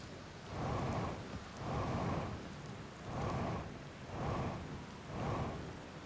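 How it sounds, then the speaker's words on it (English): Storm rain and thunder in the video game Outer Wilds: steady heavy rainfall with rolling rumbles that swell and fade about once a second, a continuous, moderately loud wash with no voices. "it's probably the storm"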